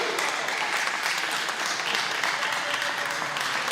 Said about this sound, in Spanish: yo les pido que den un voto de aplauso.